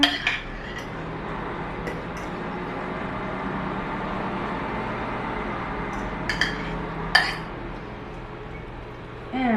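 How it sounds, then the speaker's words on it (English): A pan being handled in a kitchen while sweet potatoes are added for twice-cooked sweet potatoes, with scattered metallic clinks and a sharper clatter late on over a steady low background hum, no talking. "now I'm gonna grab my pan. And I'm gonna put this in the pan."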